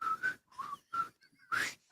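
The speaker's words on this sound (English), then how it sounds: "can Don whistle the Andy Griffith Show theme?" A man whistles the Andy Griffith Show theme, a bright, bouncy tune in four short phrases with brief gaps between them, close and clear, with no talking.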